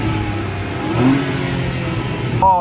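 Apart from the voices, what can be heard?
Renault Vel Satis 3.5 V6 engine revving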